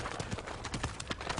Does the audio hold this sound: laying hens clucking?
no